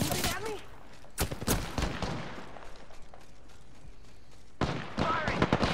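Rapid bursts of game gunfire crackle in clusters near the start, pause, then return as a dense volley at the end, with talk and game noise in between.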